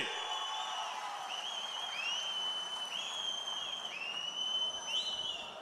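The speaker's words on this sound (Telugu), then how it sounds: "గట్టిగా చప్పట్లు కొట్టి మీరు కూడా ఆమోదించండి" A large crowd at a party rally cheers and applauds steadily from a distance, a dense wash of whoops and clapping with no talk on top.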